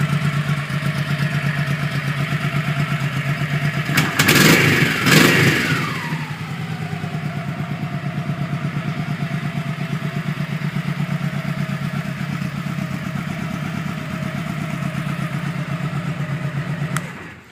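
A 2001 Honda Shadow 1100 Saber V-twin motorcycle engine idles steadily and close, with a sharp pair of throttle blips early on before it settles back into an even, throbbing idle.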